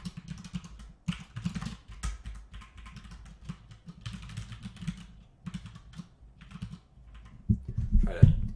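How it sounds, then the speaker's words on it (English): Computer keyboard typing, loud and close, with quick bursts of clattering keystrokes separated by short pauses and a few heavier knocks near the end. "Try to move the keyboard a little bit. I'm sorry that it's so loud."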